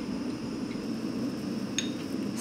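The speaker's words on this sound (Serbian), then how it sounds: "Na vatru stavljam tiganj." A frying pan set down on a lit gas stove gives a single sharp metallic clink partway through, over a steady low roar from the burner.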